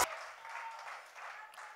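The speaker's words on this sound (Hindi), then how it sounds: "तो एक बार जोरदार तालियां हो जाएं फॉर एलवी रेवंत" A studio audience at the Indian Idol 7 televised singing competition claps steadily and loudly, filling the whole moment with sustained applause that begins abruptly and carries on without any talk over it.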